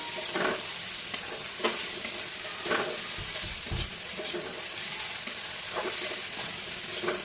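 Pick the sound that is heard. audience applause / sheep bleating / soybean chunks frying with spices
soybean chunks frying with spices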